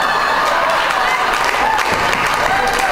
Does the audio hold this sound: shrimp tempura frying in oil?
no